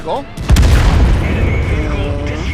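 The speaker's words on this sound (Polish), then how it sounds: "Widać wytrzymuje strzały wrogich pojazdów tieru 9." A heavy tank's cannon firing in the game World of Tanks, one loud booming shot with a rumbling tail, and a voice talking around it.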